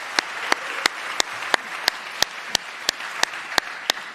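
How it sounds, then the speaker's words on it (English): Audience at a summit event in 2026 gives a round of applause, heard as a steady wash of hands with regular sharp, loud claps that keep an even beat throughout. "big round of applause."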